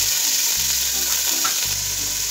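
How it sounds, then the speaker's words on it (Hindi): Chicken pieces sizzle in hot oil with golden-browned garlic in a pan, a steady loud hiss with low crackling bursts as the meat is stirred, close up and with no talking. "अब हम इसमें चिकन को शामिल कर देंगे।"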